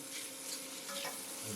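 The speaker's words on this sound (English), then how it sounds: "Add a little butter to this. I want to sear these. I want to sear them real nice." Shrimp sear in butter in a home kitchen pan with a quiet, continuous crackling sizzle that swells slightly near the end. No voices are heard.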